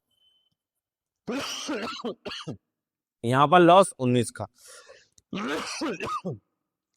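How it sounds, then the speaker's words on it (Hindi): Someone speaks briefly, then coughs and clears his throat a few times between words. "खांसी चल रही है"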